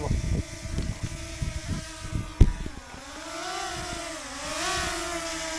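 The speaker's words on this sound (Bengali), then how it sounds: "ড্রোন আকাশে উড়ে গেছে, ড্রোনের বাতাস খাইতেছে, খুব কঠিন বাতাস।" A drone flies high in strong, gusty wind, its motors giving a steady, wavering whine whose pitch rises and dips, mixed with buffeting wind rumble and a few sharp knocks near the start.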